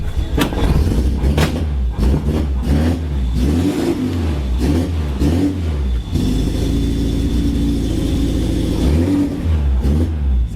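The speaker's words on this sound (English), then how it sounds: "So we'll fire it up and see how many cylinders it wants to run on today." A four-cylinder Toyota Hilux truck engine with a misfire runs close and loud, a rough, uneven idle with repeated revving surges and lumpy chugging that suggests not all cylinders are firing.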